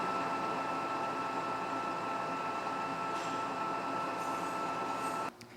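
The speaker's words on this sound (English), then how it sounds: "We're just taking a finish cut here. Nothing too crazy, 5 thousandths, real slow RPM." A metal lathe takes a light, slow-RPM finish cut of about five thousandths, giving a steady, even machine hum with a constant tonal whine that holds for several seconds before dropping away abruptly near the end.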